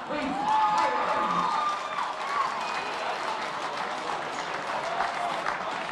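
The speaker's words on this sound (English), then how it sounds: "That was a round of applause from Newcastle" Crowd applause and cheering at a 70kg fight night in Newcastle, a dense wash of clapping holding steady throughout with whistles and shouts rising early and voices mixed in.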